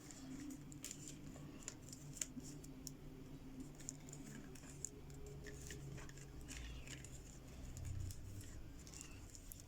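Scissors trim plant strands while braiding a small cockerel figure: faint, scattered snips and soft rustles over a low, steady background hum, with no voices.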